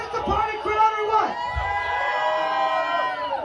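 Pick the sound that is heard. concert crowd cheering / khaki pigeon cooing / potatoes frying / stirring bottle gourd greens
concert crowd cheering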